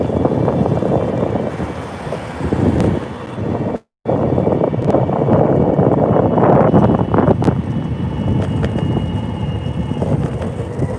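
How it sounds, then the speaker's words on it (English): A cold city wind roars and buffets hard against the microphone in a loud, continuous rumble that cuts out for a split second before surging back. "That wind cutting me right now."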